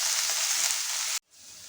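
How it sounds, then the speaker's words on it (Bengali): Potatoes frying in a pan with spices, a steady close sizzle that cuts off abruptly after about a second, then resumes more faintly. "আলুটা আমি যেহেতু ফ্রাই করছি"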